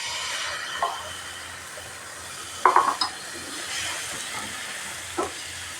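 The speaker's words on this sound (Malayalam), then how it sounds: "അപ്പോൾ നമ്മുടെ രണ്ടാമത്തെ ദോശയ്ക്ക് നമ്മൾ മാവ് ഒഴിച്ചു വിടണേ." Dosa batter poured onto a hot pan sizzles in a soft, steady hiss with a few brief clicks and scrapes from utensils, close but fairly quiet, with no talking.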